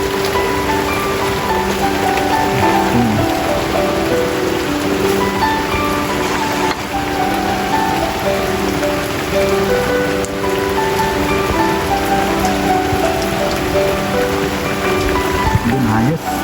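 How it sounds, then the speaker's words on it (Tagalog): Steady rain falls outdoors at a storm-damaged house site, a dense continuous hiss with faint tonal hum underneath and brief stray sounds near the end. "Habang tayo ay nagpapatila ng ulan"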